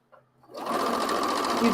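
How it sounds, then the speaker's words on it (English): A sewing machine starts up and runs steadily, stitching a long chain of fabric pieces together lengthwise, loud and close with a fast continuous whir after a brief quiet start. "sew all the pieces together lengthwise like I'm doing now"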